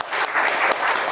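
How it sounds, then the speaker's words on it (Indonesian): Audience applause in an Indonesian religious gathering, a dense steady burst of many hands clapping together for the full short stretch, loud and close with no voices over it. "kita boleh tepuk tangan dulu dong buat Rumah Salam"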